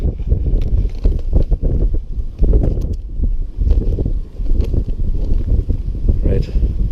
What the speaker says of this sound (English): how windy it was getting